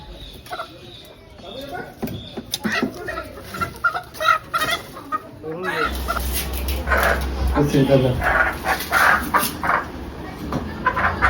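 Roosters brought home for a household festival cluck and squawk in short bursts, close by and mixed with people talking.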